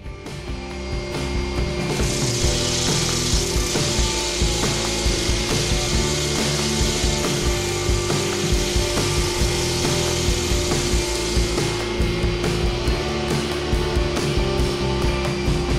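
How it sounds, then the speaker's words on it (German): Continuous whirring of a wood lathe with the rasp of sandpaper against a spinning larch wood bowl, loud and steady throughout, no voices. "aber schleifen und filmen, das ist etwas langweilig"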